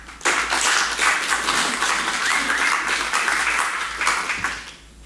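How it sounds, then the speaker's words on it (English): Conference audience applauding as two speakers are introduced, a burst of dense clapping that starts sharply, holds steady and then tapers off near the end. "please give a warm applause for Sam and Rory"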